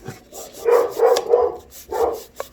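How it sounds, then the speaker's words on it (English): Dogs bark and yap in a quick cluster of four or five calls, moderately close, with a short gap before the last barks. "that's the wild dog animals of rainforest that you hear"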